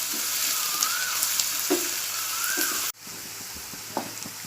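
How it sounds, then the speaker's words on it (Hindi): Onions frying in oil in a pan for a Konkani prawn masala, a steady close sizzle with occasional stirring scrapes and a brief dip before the frying noise continues. "और इसको थोड़े टाइम प्याज को मैं तेल में तलूँगी"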